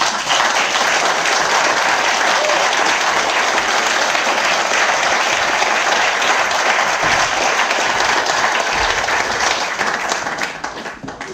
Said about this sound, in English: So let's give another round of applause.